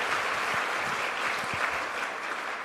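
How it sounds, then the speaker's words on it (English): Audience applause at the ribbon-cutting ceremony for the new Cornell Tech campus, a steady, dense wash of clapping that holds evenly for the whole stretch with no voices over it. "Let's give him a round of applause."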